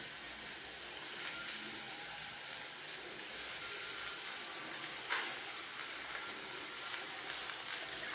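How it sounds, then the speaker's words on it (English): Mango inji (mango ginger) frying in sesame oil in a pan after mustard seeds, a steady soft sizzle and hiss throughout with a few faint pops, fairly quiet and even. "Let's fry it in the sesame oil a little"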